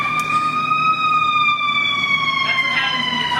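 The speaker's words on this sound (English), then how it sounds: "It's always good to have a siren in the background when you're speaking" A fire engine siren wails steadily in the background at an outdoor city event, a long rising and falling tone carrying under faint voices.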